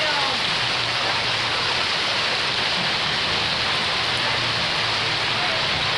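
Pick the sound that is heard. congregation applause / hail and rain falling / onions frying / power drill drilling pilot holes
hail and rain falling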